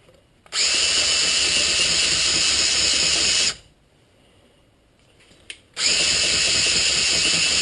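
Power tool grinding rust and debris off the front wheel hub of a 2008 Infiniti G37 during a brake rotor swap, two loud sustained high whirring runs separated by a few seconds of quiet.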